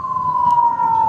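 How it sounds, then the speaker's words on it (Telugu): An ambulance siren wails steadily and loudly in rain-soaked traffic, a sustained tone heard from a scooter on the road. "నా బ్యాక్ సైడ్ మళ్ళీ ఒక అంబులెన్స్ వస్తుంది,"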